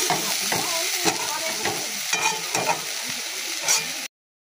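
Mashed food fries in a pan while a spatula scrapes and stirs it in repeated strokes, each sizzling burst rising over a continuous close crackle before the sound cuts off abruptly.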